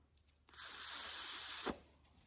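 A single sharp hiss of air blown through the clogged carburetor jet of a Honda CRF50 lasts a little over a second, close and fairly loud, then cuts off abruptly into near silence.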